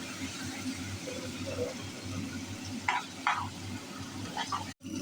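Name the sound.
tempering boiled beans in a pan, frying and stirring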